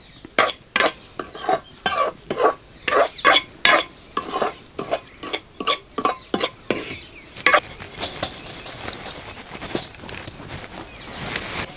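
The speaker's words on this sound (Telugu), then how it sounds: "ఈ నెయ్యిలో బొంబాయి రవ్వని దోరగా వేయించుకొని పక్కకు తీసి పెట్టుకుందాం" Bombay rava (semolina) roasts in ghee, a spatula scraping the pan in quick rhythmic strokes over a light sizzle, then slowing into gentler stirring.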